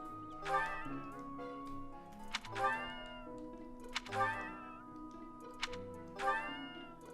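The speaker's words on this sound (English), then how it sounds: "And here we have got this cat. Let's feed her something. That's a loyal kitty." A cat in Fire Emblem: Three Houses meows four times at a steady pace, clear rising cries over soft game background music, with no talking.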